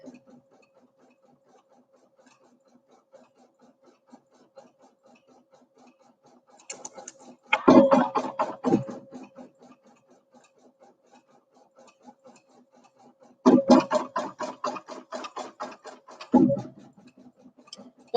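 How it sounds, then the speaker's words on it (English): 2-in-1 sewing and embroidery machine in a home studio: two bursts of rapid mechanical stitching chatter, each a few seconds long, separated by quiet with faint ticking. "That's a sewing machine and an embroidery machine."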